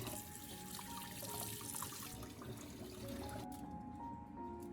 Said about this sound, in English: rinse the lemon peels under running water